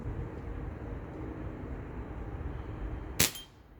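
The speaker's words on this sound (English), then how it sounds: "Let's shoot at one of our army guys again." A single sharp clang as a pellet from a Daisy 990 CO2 air rifle strikes a target, brief and fairly close, over a low steady background rumble.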